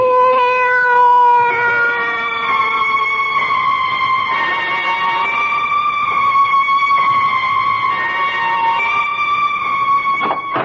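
A cat giving a long, drawn-out wavering meow that bends in pitch and carries on for several seconds, loud and close with no talk over it.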